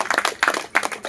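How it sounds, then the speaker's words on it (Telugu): A group of meditation participants clapping together after a session, a brief bright patter of many hands in three quick bursts, no talk over it. "చప్పట్లు కూడా"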